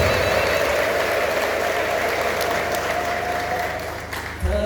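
Congregation at an Ethiopian apostolic church students' festival clapping, a steady, full burst of applause that gradually eases before a sharp cutoff, with a faint tone humming underneath.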